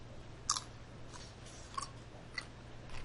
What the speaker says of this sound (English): You can hear the crunch. Those pickles are a week old in the juice